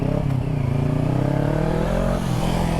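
Motorcycle fitted with an Akrapovič exhaust revs hard and steadily, a loud, close engine roar with rising harmonic tones and a slight dip near the end, no voices.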